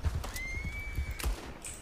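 A horse in a video game gives a short, high neigh over soft hoof thuds and faint game ambience, all within about two seconds.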